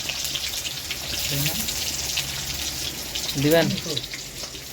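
Hot oil sizzles and crackles steadily in a pan as onion, chili and meat fry, a continuous close hiss with a voice speaking briefly over it.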